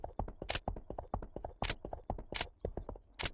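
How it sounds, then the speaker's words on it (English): A horse gallops in the online video game Age of Cignare Online, giving crisp, rhythmic clip-clop hoofbeats in quick clustered groups, close and clear with no talk over them. "Yeah, that horse galloping is that's how you say it? Galloping?"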